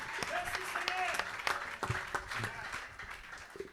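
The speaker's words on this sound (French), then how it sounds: "Acclamons le Seigneur Jésus." A church congregation claps and applauds at a Sunday healing service, a steady, dense roar of applause with a voice speaking over it.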